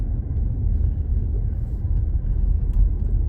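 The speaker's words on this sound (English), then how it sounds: "the wind's pushing it across pretty good right now" Strong wind pushing loose snow across a rural road ahead of an incoming snowstorm, a steady low roaring rumble that buffets throughout without pause.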